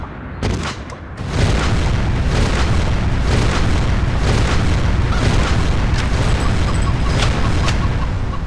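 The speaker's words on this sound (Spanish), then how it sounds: "Vamos a dejar el botón aplastado para ver cómo puede disparar esto." Weapon in Dead Trigger 2 held on continuous fire, a loud, dense stream of rapid booming shots that starts after a brief opening burst and runs unbroken to the end.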